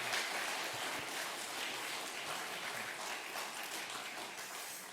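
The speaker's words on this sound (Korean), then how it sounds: "우리 환영하고 축복하는 박수 좀 하도록 하겠습니다" A church congregation at a Sunday worship service claps to welcome and bless missionaries: a soft, distant, continuous patter of many hands that slowly fades.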